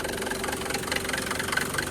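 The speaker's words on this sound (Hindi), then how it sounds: "इस वक्त आपको सिर्फ एक इंजन की साउंड आ रही है" A Mercedes W124 engine idles steadily with the car still cold, giving a constant, even mechanical hum and a fine rhythmic tick, close and alone without any talk.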